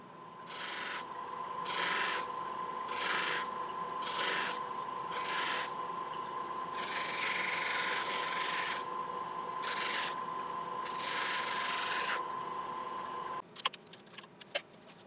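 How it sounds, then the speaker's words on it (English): Turned wooden Easter bunny parts are buffed against spinning buffing wheels, giving a steady motor hum under rhythmic rubbing swishes as each piece is pressed on and lifted off, ending in a few light clicks and knocks, with no talking. "I want to give these a quick buff on the wheels first"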